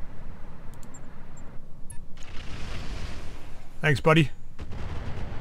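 An artillery barrage in the mech combat game Roguetech, heard as a rumbling wash of distant explosions with a sharp pair of blasts near the end, while someone speaks briefly.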